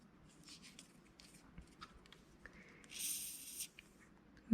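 Thin purple quilling paper strips being folded in half make soft, close crinkles and light papery scrapes, quiet and intermittent, ending in a brief brighter rustle.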